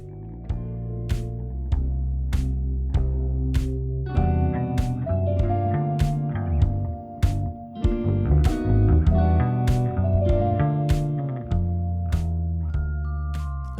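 Instrumental music from the Hacks soundtrack: a steady beat with sharp percussive hits, layered bass and melodic lines running continuously at full level, no talk.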